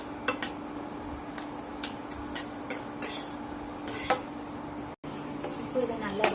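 A spatula scrapes and taps against a pan as homemade health-mix flour is dry-roasted, with irregular metallic clinks and scrapes over a low steady hum, and a brief cut in the sound near the end.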